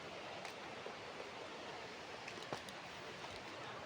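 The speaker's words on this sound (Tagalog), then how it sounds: "Maingay po, rinig na rinig ang agos ng falls, ng tubig." Steady, dense rushing water fills the clip, a continuous broadband roar like a waterfall close by, with no pauses or speech, at Labi falls near Camp Paraiso.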